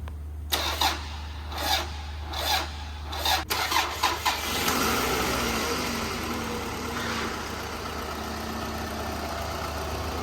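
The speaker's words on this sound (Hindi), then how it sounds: "इंजन की स्टार्टिंग आपने देखी है कि बिल्कुल ओके स्टार्टिंग है इंजन की।" A car engine cranks in several short bursts, then catches and settles into a steady idle after a timing chain cover replacement for an oil leak, heard close and clear with no talking.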